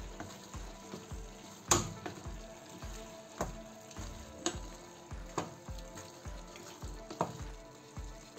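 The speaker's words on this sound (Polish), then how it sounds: "Dokładnie mieszamy." Young cabbage bigos with homemade sausage, seasoned with salt, pepper and tomato concentrate, sizzles in a pan while being stirred, with a steady fry hiss under repeated scraping strokes about every half second.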